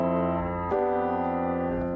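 Piano chords sounding over a sustained low F bass, two struck chords ringing with a soft re-attack near the end, close and unaccompanied by speech.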